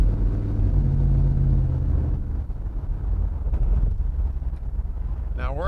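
A deep V8 rumble from a moving 1956 Chevrolet Bel Air restomod with an LS1 engine, heavy at first and then settling, with wind buffeting the microphone throughout.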